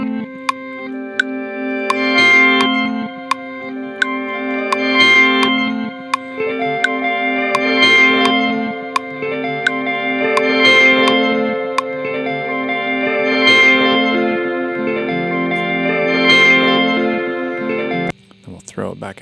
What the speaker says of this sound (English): we'll use the reverse trick. So we're going to reverse it.